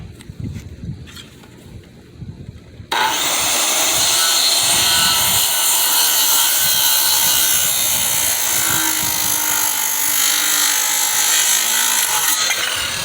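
A power saw rips through wood for rough framing of pool deck stairs, a loud continuous cutting whine starting after a few seconds of quieter handling noise and running steadily to the end.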